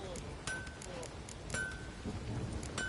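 Steady rain with occasional thunder rumbles in the video game The Witcher 3, a continuous wet wash under a character's speaking voice.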